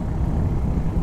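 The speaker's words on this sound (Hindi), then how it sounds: "अगर आप इसका एग्जॉस्ट नोट सुन पा रहे होंगे" Royal Enfield Hunter 350 motorcycle being ridden, its steady low exhaust rumble droning continuously and fairly loud, with no voices over it.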